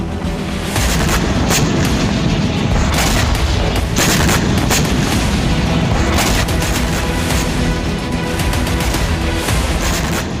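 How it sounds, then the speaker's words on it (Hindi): Explosions and heavy gunfire at a Russian military post under attack, loud repeated booms and sharp blasts in dense succession over a constant roar. "कुछ घंटे पहले हमले में रूस के सैन्य ठिकाने को विस्फोट से उड़ा दिया।"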